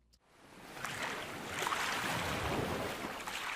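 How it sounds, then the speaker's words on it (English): Water lapping used as a low bed in a sound design mix swells in within the first second, then holds as a soft, continuous wash of gentle splashes and watery hiss with no voices. "we can take part of the lapping sound at the end, bring it back to the beginning, keep it low"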